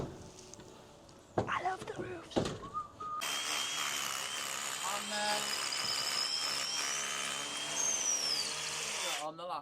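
Power saw cutting through a timber roof rafter, a loud, steady whine that starts after a few seconds of handling knocks and runs to the end.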